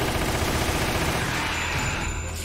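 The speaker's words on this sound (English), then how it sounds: "We're gonna use the Uzi" An Uzi fires in a Resident Evil video game as a dense, unbroken burst of rapid automatic gunfire. The fire stays loud and continuous for a couple of seconds.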